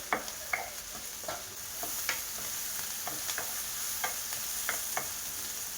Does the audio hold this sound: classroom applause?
no